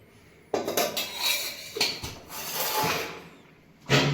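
Kitchen clatter of a pan and utensils as cooking oil is poured into a pan to start a Gujarati drumstick (saragva) vegetable curry, with a few clinks and a sharper knock at the end.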